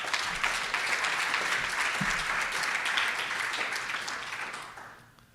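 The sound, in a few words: conference audience applause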